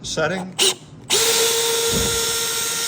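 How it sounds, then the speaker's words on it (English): A screw gun on its slow setting drives a screw into the original bottom of a 1954 17-foot Century Resorter wooden boat, a steady whirring drone that starts after a few brief knocks and runs on evenly. "we have the screw gun set on the slow setting"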